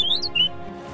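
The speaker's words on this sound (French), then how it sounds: "Le gazouillis des oiseaux," Bird chirps in a children's animated story: a few short, high, bright tweets in the first half second, then quieter tonal background.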